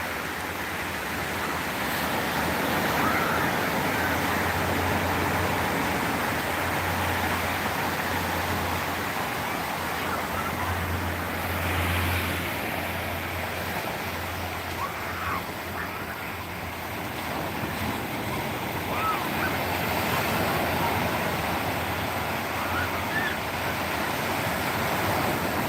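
Ocean waves wash against rocks in a continuous, loud roar of surf mixed with gusty wind noise, with no talking.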